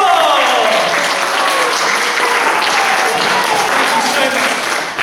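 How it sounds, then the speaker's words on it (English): Loud, dense applause from a live audience at a gaming show in a community venue, sustained without a break and close up, with no voices over it. "I want a huge round of applause for these guys being absolutely awesome."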